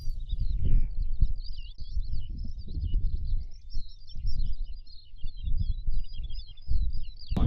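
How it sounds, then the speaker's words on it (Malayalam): Small birds chirp and twitter from the grass at dawn on Fair Snape Fell in the Forest of Bowland in summer. The calls form a continuous, fairly near stream of high chirps over intermittent low rumbling bursts of wind. "ഇവിടെ ഫുള്ള് ഈ കിളികളുടെ സൗണ്ട് മാത്രമേ ഉള്ളൂ കേട്ടോ."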